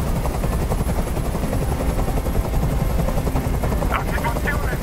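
Helicopter hovering during a hostage standoff in Detroit: Become Human, a loud, dense, continuous rotor beat filling the scene alone, with a few short sharp cries near the end.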